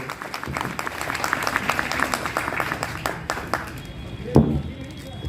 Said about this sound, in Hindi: तालियां बहुत धीमे बजा रहे हैं आप।